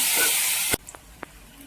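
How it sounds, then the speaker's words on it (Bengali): Chopped onion dropped into hot oil in a village-style egg and eggplant curry: a loud broad sizzling hiss that cuts off abruptly, followed by quiet with a couple of small clicks. "ওই তেলের ভিতরে দিয়ে দিচ্ছি পেঁয়াজ কুচি"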